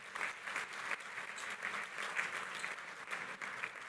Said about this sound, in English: Can you give them a round of applause, because we couldn't do this without them.